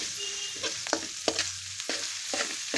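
A ground paste of ginger, garlic, coconut and coriander fries in oil for misal, a soft sizzle broken by several sharp spatula scrapes and stirs against the pan, close by with no talk.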